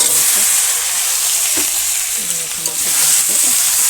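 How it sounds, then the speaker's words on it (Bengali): Loud, continuous sizzling of whole potatoes and cumin frying in hot oil in a village kitchen, a bright hiss throughout with faint stirring and clinks beneath. "এখন তেলে করে জিরে দিয়ে দিয়েছি সিমের আলু আর আলুটা এখন দিয়ে দেবো"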